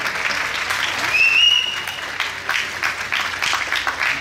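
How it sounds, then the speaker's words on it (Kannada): Audience clapping at a cricket trophy presentation for a local championship, a dense sustained round of applause from a crowd, loud and close, with a faint whistle and some talk mixed in. "ಚಪ್ಪಾಳೆಯೊಂದಿಗೆ ಸ್ವಾಗತಿಸಿ."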